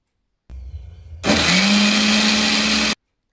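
A blender whirs to life and grinds ripe mango into a thick paste, a steady loud motor roar running about a second and a half after a quieter lead-in, then cutting off abruptly.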